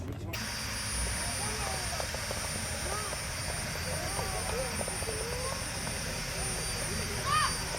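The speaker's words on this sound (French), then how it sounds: "Donc nous sommes actuellement en phase de mise en température du moteur et d'analyse des paramètres." Aerotrain turbojet engine warming up at an outdoor show stand before a run, a steady loud roar and whine with a high tone held throughout, crowd talk and bird-like chirps faintly over it.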